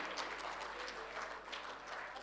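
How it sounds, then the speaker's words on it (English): An audience at a sustainability event in Pune applauds after a stand-up artist's performance, a steady wash of many hands clapping, fairly faint and distant throughout, with no speech on top. "Everybody, please give a big round of applause for Neha."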